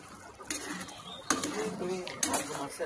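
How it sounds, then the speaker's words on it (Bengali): Egg chili being stirred and tossed in a pan with a metal utensil: a few sharp clanks and scraping strokes against the pan, with softer clinks between them, close and moderately loud. "তারপর ভালো করে নেড়ে চেড়ে নিয়ে নেব"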